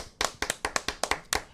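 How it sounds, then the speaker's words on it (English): A small round of hand claps, about eight sharp, close claps in an uneven rhythm, alone with no talk over them. "I'm giving you a round of applause"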